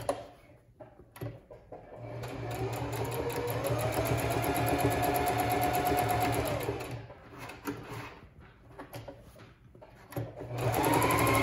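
Sewing machine top-stitching close to the edge of a felt apron, a steady whirring run of stitches after a few brief starts, then stopping and restarting near the end.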